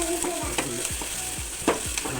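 Onions fry in a pan while a spoon stirs them, a steady sizzle with several quick scraping strokes against the metal, close and clear.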